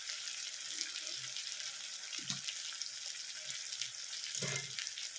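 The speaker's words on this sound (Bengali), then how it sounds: "ভালো করে পেঁয়াজটাকে ভাজবো।" Onion with green chillies frying in hot oil, a steady soft sizzle throughout with a few louder spits and crackles from stirring.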